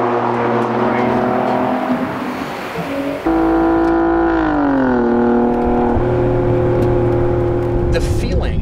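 An Alfa Romeo Giulia Quadrifoglio drops a gear on the paddle and pulls hard, its engine note stepping up in pitch and climbing loud and close inside the cabin, with a voice talking over it.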